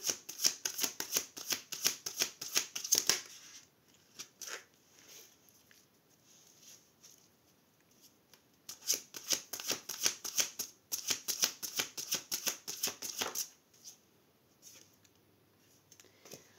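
Oracle cards are handled and shuffled up close in rapid riffling bursts, with a quiet pause of light handling between them and no talking.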